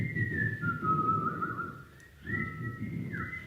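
Whistling in a choir rehearsal room, two sustained, wavering tones with a short pause between them, over a soft background murmur.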